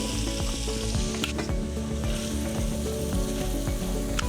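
Mushrooms sizzle loudly in butter in a pan as a steak is pan-seared, a dense continuous crackle with scattered pops and utensil clicks, close up and with no talking.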